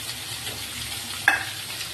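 Radish, potato and kohlrabi frying in a pan give a steady, moderate sizzle, with one brief clatter of stirring partway through.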